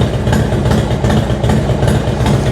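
Harley Davidson FXDX motorcycle with Daytona Twin Tec control module, engine idling slightly cold with a bit of choke, a loud close steady thumping rumble, even and uninterrupted, no talk.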